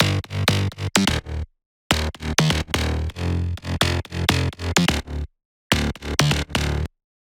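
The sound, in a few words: first bass line layer, bouncy synth bass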